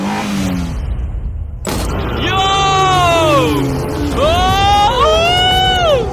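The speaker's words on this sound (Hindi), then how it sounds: "ओह माय गॉड, मैं एक फॉर्मूला कार चला रहा हूँ।" A formula-level race car's engine revs close by, its pitch sweeping up and down in repeated loud surges as the car is driven.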